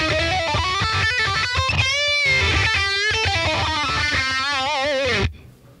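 Electric guitar played through a Peavey Vypyr Tube 60 amp with an analog phaser, a loud run of sustained chords and bent notes with a slow sweeping swirl, ending abruptly into a brief fading tail.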